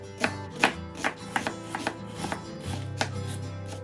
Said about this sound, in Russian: Сначала нарежем лук.